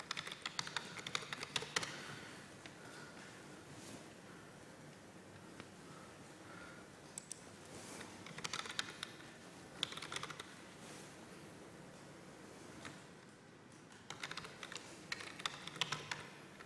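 Fingers type on a computer keyboard in quick bursts of clicky keystrokes with short pauses between them, close and fairly quiet, with no one talking.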